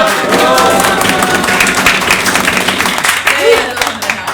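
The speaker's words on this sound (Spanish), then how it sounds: "Y aplausos, por favor." An audience claps steadily, the applause mixed with cheering voices and some chatter, fairly loud and close throughout.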